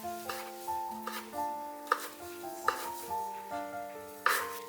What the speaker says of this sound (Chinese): 再将菇饼切细碎